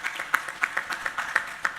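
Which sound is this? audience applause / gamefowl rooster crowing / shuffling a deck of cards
audience applause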